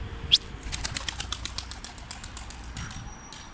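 A racing pigeon takes off with a burst of flapping wings, a quick train of soft close beats that speeds up and then trails away, with faint bird chirps in the background.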